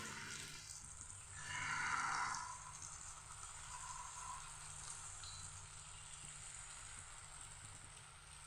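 A second batch of eggs frying in oil for egg chilli gives a faint, steady sizzle with a slightly louder hiss in the first couple of seconds, then a continuous soft crackle.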